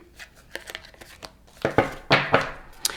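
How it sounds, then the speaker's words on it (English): Tarot cards being shuffled by hand, a quiet series of crisp riffling and rustling bursts that grow louder toward the end, with brief sharp slaps of card edges and no talk. "Okay, so these cards flew out, but I'm going to keep shuffling."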